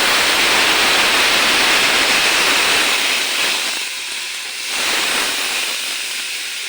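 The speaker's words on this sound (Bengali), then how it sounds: "এখন সিদ্ধ করা ডালটা আমি দিয়ে দেবো মুসুরিটা" Boiled masoor dal tipped into a pan of fried onions for dal chorchori sets off a loud, steady hiss and sizzle that eases slightly partway through, with no one speaking.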